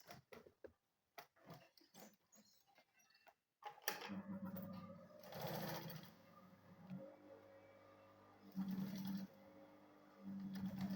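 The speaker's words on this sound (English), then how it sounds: "Then I'll go ahead and sew it." A sewing machine stitches a school bag, starting after a few scattered clicks and taps, then running in short bursts of quiet mechanical whirring and ticking, close and fairly faint.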